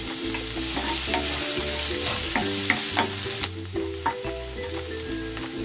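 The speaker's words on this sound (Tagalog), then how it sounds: "Tigisan na natin tong bawang. At ang sibuyas." Garlic and onion sauté in hot cooking oil in a pan, a steady close sizzle broken by scraping stirs, with background music playing softly.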